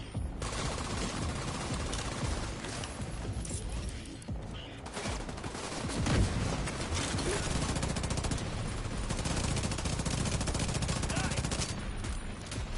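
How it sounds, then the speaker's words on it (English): The Division 2 gunfire, a long stretch of near-continuous automatic shooting with dense rapid reports over a loud combat mix, briefly dipping before resuming, with a player's voice faintly under it. "So I cannot manually reload my weapon. I have to fire all my bullets."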